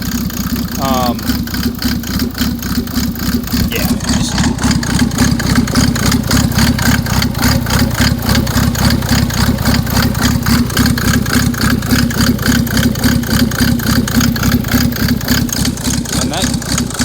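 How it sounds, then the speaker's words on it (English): Diesel engine with an 8mm injection pump and an aggressive cam idling close by, a steady loud lopey chug with evenly pulsing beats throughout, a brief spoken word early on. "that cam sound hits harder than a drunk stepdad"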